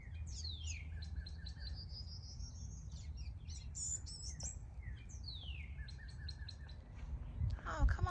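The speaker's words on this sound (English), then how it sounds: "Bird." Birds chirp and whistle outdoors, sliding and repeated calls from several birds at moderate distance over a soft background of insect buzz, with a brief rustle near the end.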